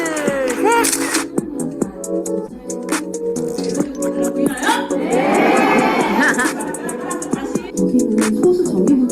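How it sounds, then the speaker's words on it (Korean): An audience at a business group celebration gives congratulatory applause, a busy swell of clapping mixed with cheering voices and chatter, loud and fairly close, with people talking over it. "축하 박수 드리겠습니다"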